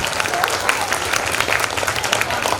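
Applause from an audience at a school golden jubilee meeting at Sailo High School, Rahama, on its third day: dense, steady clapping that stays loud and even throughout, with no clear voices.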